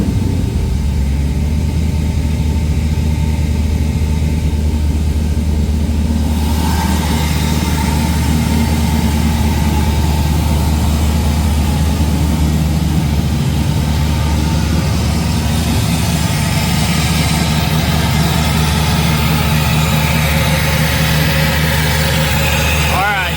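A Nissan 280Z with a swapped LS3 V8 rumbles at a steady, loud, close idle, with a deep low drone throughout. People talk over the engine.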